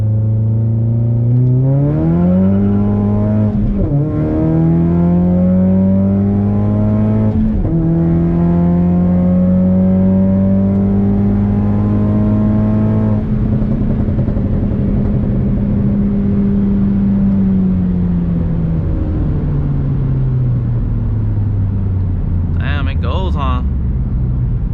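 Ford Focus ST pulling hard from a brake-boost launch, engine note climbing steadily through the revs with a gear change or two, loud and close from inside the cabin, voices occasionally over it.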